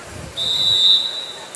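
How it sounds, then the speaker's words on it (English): A referee's whistle at a high school volleyball match between Kadoka Area and New Underwood, one sustained shrill blast of about three-quarters of a second, clear and fairly close over faint gym noise. "Whistle blows."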